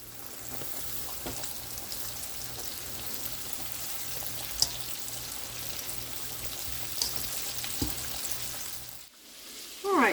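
Southern-style chicken strips fry in hot oil, giving a steady close crackling sizzle with occasional clinks and stirring, before it cuts off near the end.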